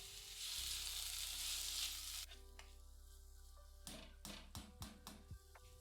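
Onion and tomato sauté in a pan for chana masala: a faint, quiet frying hiss for the first couple of seconds, then a few sharp stirring clicks and taps.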